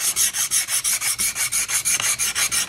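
A chisel being restored is rubbed back and forth on a sharpening stone in a steady rhythm of about fourteen close, even rasping strokes, with no voices.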